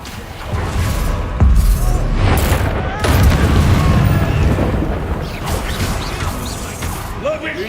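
Confringo and Bombarda explosion spells in the Hogwarts Legacy video game, loud booming blasts and crashing bursts in quick succession, with voices calling out over them.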